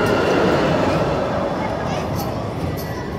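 A small kids' train ride rolls by at Holiday World amusement park in Maspalomas, Gran Canaria, a steady rumbling clatter of wheels and motor amid a busy outdoor crowd, continuous and fairly close.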